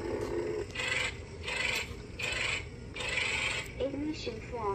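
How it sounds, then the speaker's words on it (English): A toy rainbow lightsaber fires its ignition effect, a series of electronic whooshing hums that swell and cut off in several bursts, played close and fairly loud with no talk over it. "Rainbow lightsaber with the ignition."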